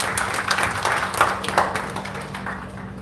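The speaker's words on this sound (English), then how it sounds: "So let us give him a big round of applause." An audience at an evening campus event gives a round of applause, a dense patter of clapping over a low electrical hum that gradually thins out and fades.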